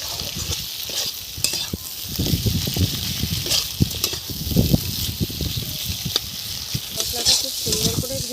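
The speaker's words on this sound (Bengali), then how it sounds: "এই মশলাটা হালকা কষবো," Ground cumin and ginger masala paste frying in a pan for a puti fish curry, with steady sizzling and repeated scraping stirs throughout, close and fairly loud.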